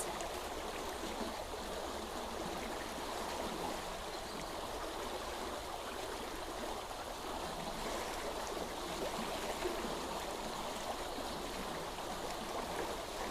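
A flowing stream of water in nature, a continuous, even rush and burble, moderately quiet and unbroken, with no voices.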